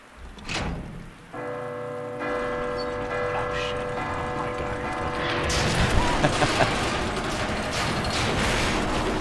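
Church bell tolling in the Resident Evil 2 Remake video game, its long harmonic ringing sustained over steady rain and ambient game noise, with a louder clattering of mechanisms in the final seconds.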